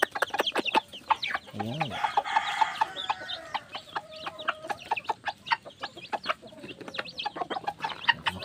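A hen and her chicks in a small backyard chicken coop, with repeated close clucks and sharp peeping chirps in an irregular stream, and a person briefly speaking.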